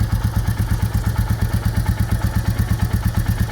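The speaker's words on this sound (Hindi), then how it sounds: "So let us start the engine." A Royal Enfield Bullet Classic 350 BS6 single-cylinder engine idles close by, its steady, even thumping pulse repeating rapidly with a mechanical clatter on top and no voices.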